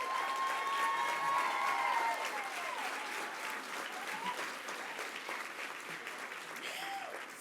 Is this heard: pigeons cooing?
no